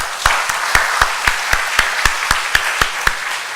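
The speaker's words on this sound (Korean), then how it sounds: "우리 다시 한번 은혜롭게 인도하신 하나님께 다 같이 영광의 박수 올리시겠습니다." Church congregation clapping in unison during a worship service: crisp, evenly spaced claps at a steady quick beat, about a dozen in a row, loud and close with no voices over them.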